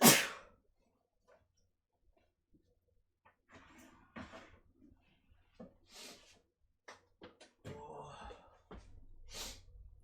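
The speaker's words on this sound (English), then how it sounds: "Too much sneezing." A single sharp, loud sneeze bursts out at the start, followed by quiet scattered rustles, clicks and soft handling noises in an indoor room.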